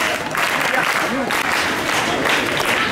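Students at a school quiz event in a high school hall break into loud, continuous applause, a dense crowd of clapping hands sustained throughout with voices mixed in.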